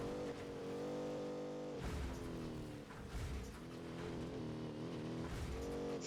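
Off-road vehicle from the racing video game Fuel cruising at top speed along a paved road, a steady sustained engine drone with rich harmonics that dips briefly and then resumes, loud and continuous with no talking.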